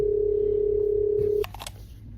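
A telephone dial tone hums steadily and loud for over a second, then cuts off, followed by a few faint clicks and rustles of a phone call being placed.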